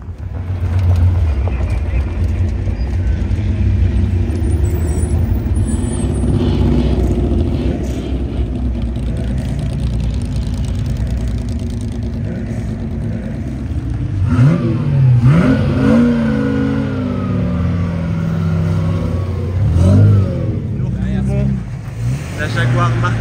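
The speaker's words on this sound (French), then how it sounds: "Nous retrouvons les Jaguars Type E." Several Jaguar E-Type sports car engines idle and rev over a steady rumble during the Tour Auto 2025 road rally, with people talking nearby and occasional louder throttle blips.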